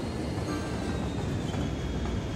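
Train rolling along in the city-building game Cities: Skylines, a steady continuous rumble with faint rail clatter, alone and evenly loud throughout.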